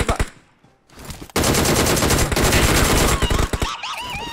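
Video game gunfire in a match with a T-Rex: after a quieter opening, a loud sustained burst of rapid automatic fire rattles on for about two seconds, followed by scattered shots.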